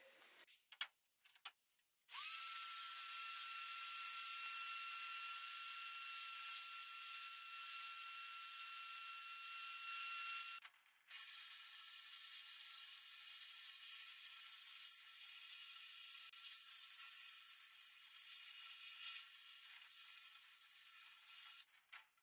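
Harbor Freight sandblasting cabinet fitted with an Eastwood foot pedal and gun blasting a power steering pulley, a steady loud hiss of air and grit after a quiet start, cutting out briefly midway before resuming.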